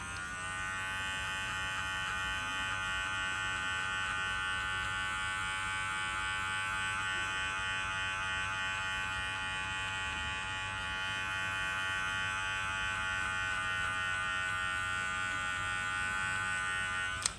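An electric hair clipper set to 1mm buzzes close and steady for the whole stretch, a continuous high-pitched motor whine with no talking.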